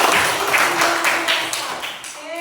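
Schoolchildren in a grade 3 Christian religion class clap their hands together in a short burst of close, dense claps, with faint voices in the room.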